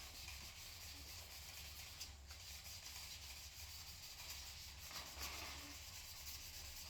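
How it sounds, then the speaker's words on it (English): Faint, steady rubbing and scraping of wet sandpaper over a 1967 Pontiac Firebird body panel, a continuous low hiss with slight back-and-forth variation and no talking. "So we just keep wet sanding away here."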